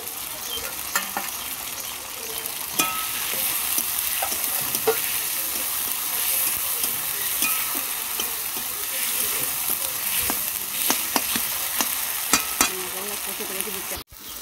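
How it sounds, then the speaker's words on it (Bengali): A ground paste of cumin and dried chilli fries in a hot wok with a steady, loud sizzle, broken by occasional scrapes and clacks of stirring, sustained throughout. "কড়ার মশলাটা কষে গেছে ভালো মতন।"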